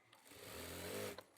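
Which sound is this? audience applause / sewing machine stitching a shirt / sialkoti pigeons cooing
sewing machine stitching a shirt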